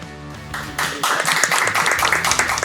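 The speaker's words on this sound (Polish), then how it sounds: "Klask." Applause at a school IT festival award ceremony, a crowd clapping steadily for a couple of seconds, dense and close, building after a brief murmur at the start.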